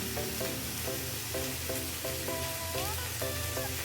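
Finely chopped tomato fries in a pan with a steady, dense sizzle throughout, while a faint voice sounds underneath.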